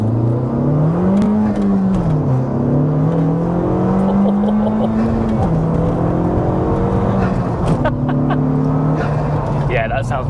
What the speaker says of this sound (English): the best thing that I've found is the forge recirculation valve, because actually it gives more flutter